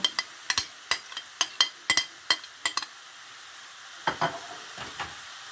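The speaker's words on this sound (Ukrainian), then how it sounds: "Налила я масло на сковородку і відправляю сюди м'ясо" Meat and onion frying in oil in a skillet, with a series of sharp crackling pops and spatters that come in quick bursts and then a few softer sizzles, close by and with no talk.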